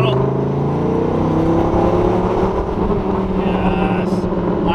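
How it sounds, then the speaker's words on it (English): Dodge Viper V10 exhaust droning loud and steady inside a tunnel, a continuous low engine roar that holds constant throughout with slight shifts in pitch. "The V10, the exhaust is nasty."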